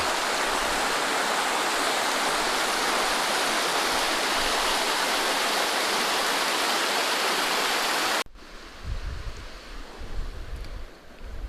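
Flowing stream water rushes in a steady, loud broadband wash for about eight seconds, then cuts off abruptly to a much quieter outdoor background with low rumbles.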